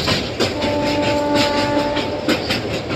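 A passenger train on the Macherla to Nadikude line runs along the rails in the rain, a steady loud roar with rhythmic clickety-clack beats of the wheels over rail joints.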